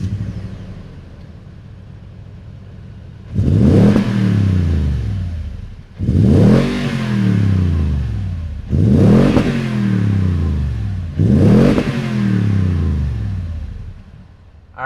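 A 2019 Toyota Tundra TRD Pro pickup's V8 idles low, then revs four times in evenly spaced bursts, each rising sharply and falling back to a rumbling idle, loud and close.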